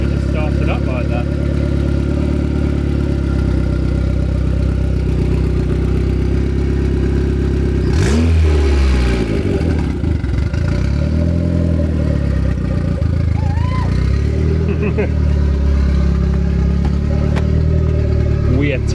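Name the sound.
turbocharged Honda B18C4 engine running in Civic EF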